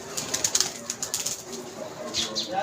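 Pigeons at a rooftop pigeon club, with soft cooing and bursts of wing flapping repeating throughout, fairly close, against a busy outdoor background.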